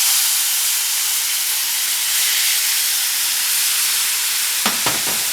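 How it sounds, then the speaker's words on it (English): Broth is poured into a hot pan of Soviet-style beef stroganoff, and a loud, steady hiss of steam and sizzle fills the moment, ending with a couple of soft clinks. "I'm going to add the broth"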